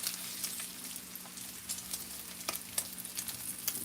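Bacon sizzles and spits in boiling grease, a steady close crackle broken by sharp pops, with no talking.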